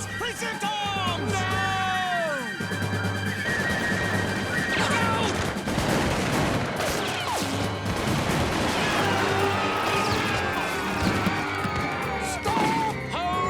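Cartoon musket volley gunfire, a dense, continuous crackle of shots and crashes beneath shouting voices and background music.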